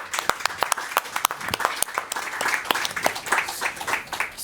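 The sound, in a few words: audience applause for the panelists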